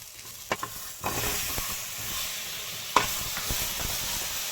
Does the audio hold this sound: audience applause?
no